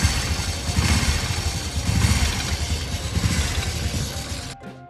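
Original Honda Revo motorcycle engine running with a knocking condition, a close, steady loud mechanical clatter and rumble that holds for several seconds before cutting off abruptly near the end.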